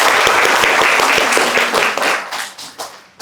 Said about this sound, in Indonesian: Boleh tepuk tangan sekali lagi?